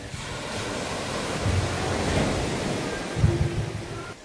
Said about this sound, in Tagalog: ayan ito ang dagat, malinaw